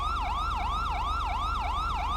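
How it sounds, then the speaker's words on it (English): A police car secondary siren from GTA 5 with the LSPDFR mod, a loud, steady electronic wail sweeping up and down in quick repeated cycles over a low engine hum, close and continuous throughout. "If you want to use the secondary siren while that's going,"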